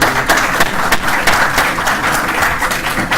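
At a glaucoma society chapter meeting, an audience claps for a visiting doctor's talk. The applause is steady and fairly close, with a few sharper individual claps standing out, and no one speaks over it.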